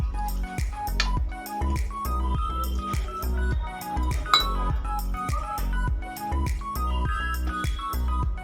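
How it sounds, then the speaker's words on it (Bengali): A spoon stirring Oreo biscuit cake batter with milk in a bowl, producing a steady rhythm of close, bright clinks and scrapes against the bowl's sides with soft wet squishing between strokes. "অল্প অল্প দুধ দিয়ে একটা ব্যাটার বানিয়ে নেব"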